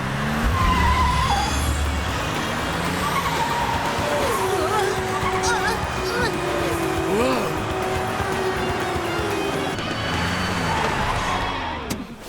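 A cartoon Tobot robot car speeding in ultra turbo mode, with a steady, loud engine roar that carries through the whole stretch, along with whooshing and squealing effects and music in the background.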